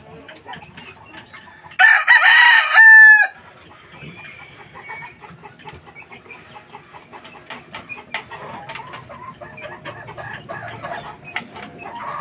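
A gamecock rooster, a fighting cock with white feet, crows once loudly and close for about a second and a half, then softer clucking and rustling chicken sounds continue in the background.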